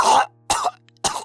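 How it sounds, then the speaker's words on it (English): A man with a cold coughs three times in quick succession in an animated drama, harsh hacking bursts close and loud with short pauses between. "He's coughing up blood?"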